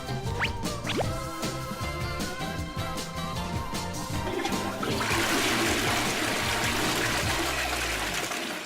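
A toilet flush used as a sound effect gives a loud rushing swirl of water that builds into a dense, hissing drain and carries on steadily to the end, with no one speaking.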